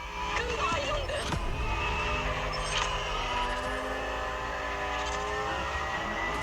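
A car accelerating in the racing video game The Crew Motorfest, a steady engine whine that climbs through rising gear sweeps, loud and continuous, with someone talking over it.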